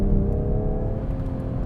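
A 2020 Toyota GR Supra road car out on a race track gives a steady, fairly loud engine drone with a low rumble and a whirring tone held throughout, with no voices.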